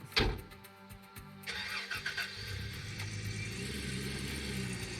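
Pickup truck engine in Gold Rush The Game cranking sharply to life, then settling into a steady mid-pitched rumble as the vehicle pulls away and keeps driving, clear and close with no talk.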